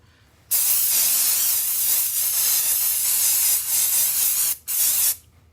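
Spray adhesive hisses loudly onto fabric in a long continuous burst, then stops briefly and starts again in a shorter burst, with no talking.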